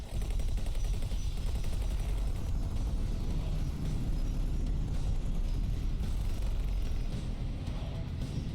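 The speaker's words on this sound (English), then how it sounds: "finally, someone is using their main guns over there" Spaceship main guns fire in X4 Foundations, a continuous, loud barrage of rapid, overlapping shots and rumbling blasts that sustains at full intensity across the whole stretch.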